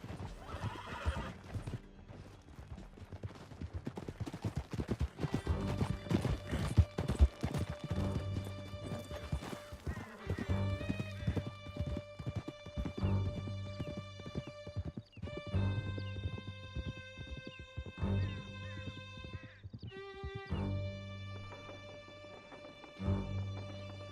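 Horses in Red Dead Redemption 2 gallop in a steady, loud clip-clop of hooves, with whinnies and neighs rising over a dramatic music score and a few crashing hits, no clear talking.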